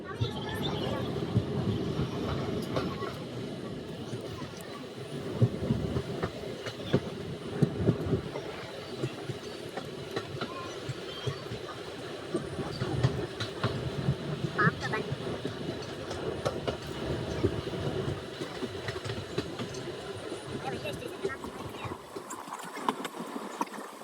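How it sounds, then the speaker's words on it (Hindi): A Rameshwaram Express train crossing the Pamban rail bridge toward Rameshwaram, India, with a steady rumble and rhythmic clickety-clack of wheels on the track, continuous and close throughout, with faint voices under the noise. "तो चलिए रेलवे के सफ़र में पंबन रेलवे पुल के ऊपर से।"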